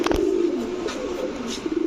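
Pigeons coo at a pigeon farm of high-flyer, racer and Golla breeds, a low throaty warble rolling on steadily and close by, with no voices.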